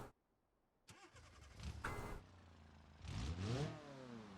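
A car engine starting in the video game BeamNG.drive, a three-wheeled vehicle on an Italian hill climb: a click, a cranking whir, then the engine catching and revving up before settling into a steady running drone.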